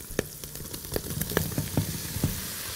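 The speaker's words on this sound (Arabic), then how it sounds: "انا عايزه اصفر البصلايه، مش عايزه احرقها" Chopped onion sizzles and fries in an oily pan with coriander, a steady close crackle broken by sharp spits and stirring scrapes, with no voices.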